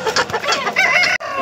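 Rooster at a Sunday poultry market in Peeleru clucking and giving a short crow, loud and close, all within a second and a half.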